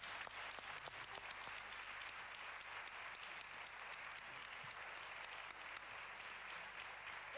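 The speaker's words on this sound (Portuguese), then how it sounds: "Um grande aplauso para a Sandra." A studio audience on a Portuguese RTP television show claps steadily, a full, even round of applause that carries on without pause.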